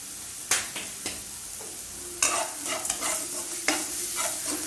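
Stirring scrapes and clatters over a steady sizzle of vermicelli ingredients sautéing in oil with turmeric, with a few sharper utensil knocks, close and moderately loud.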